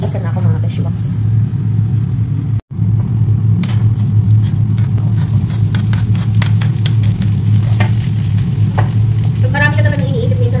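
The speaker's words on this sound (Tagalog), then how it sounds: "Magigisa na ako" Ingredients for palabok sautéing in a pan, a loud steady sizzle and fry throughout with stirring scrapes, briefly cut out once, while a person talks over it.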